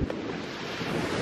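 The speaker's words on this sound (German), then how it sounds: "Und der hat jetzt richtig Wellen. Also das ist so viel Wind" Wind-driven waves churn on a small lake in Sweden, a loud, continuous rush of water and surf mixed with heavy wind buffeting close to the microphone.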